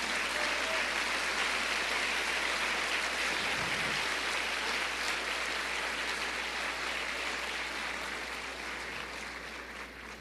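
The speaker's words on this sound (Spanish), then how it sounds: "Vamos a darle ese aplauso al que nos ama." A church congregation gives sustained applause, a dense continuous wash of clapping from many hands that holds steady throughout and tapers slightly toward the end.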